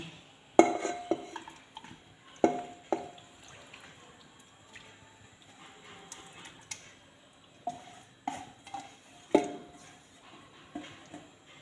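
Chicken pieces and spices are scraped and dropped into a pressure cooker for a desi chicken curry, giving several sharp metallic clinks and knocks of a utensil against the pot, spaced irregularly over a quiet kitchen background.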